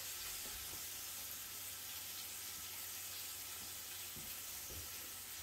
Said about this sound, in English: All we're doing is searing it. We're not cooking it yet.